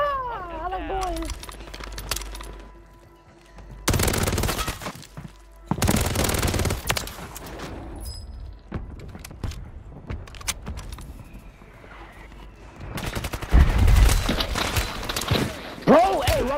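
Gunfire in Warzone 3, loud bursts of automatic fire in several heavy clusters separated by quieter stretches, with a voice talking over parts of it.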